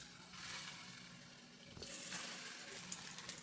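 Slices of ripe ethapazham plantain fry in hot ghee in a pan, giving a steady, close sizzling hiss that swells briefly partway through.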